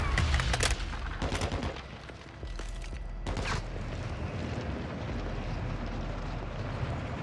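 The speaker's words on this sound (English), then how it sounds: "it's an automatic turret" An automatic turret in Call of Duty: Modern Warfare 2 hammers out sustained, loud automatic fire, with sharp bursts early on and then a dense, continuous roar of shots.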